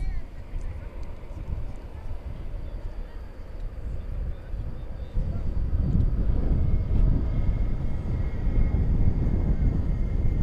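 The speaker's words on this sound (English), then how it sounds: "There goes that A300 beginning its trek over to the east side." Airbus A300 airliner taxiing at DFW Airport at night, a low distant engine rumble and roar that swells noticeably louder in the second half, with faint background noise throughout.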